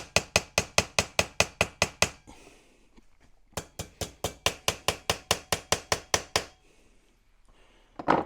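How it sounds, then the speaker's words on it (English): Rapid, evenly spaced hammer taps with the flat face on the rear capping of a 1/6 scale Armortek Series 1 Land Rover model, two bursts of about a dozen crisp metallic knocks each, separated by a quiet pause, close and loud. "Going to use this flat side of the hammer just to get that bit more of a,"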